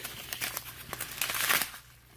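Plastic packaging of an instant cold pack from a first aid kit crinkles and rustles up close in a quick run of crackles for about two seconds, then goes quiet, with no talking.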